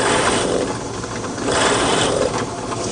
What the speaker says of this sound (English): simply plunging the cutter into a piece of scrap cypress makes quick work of forming the plugs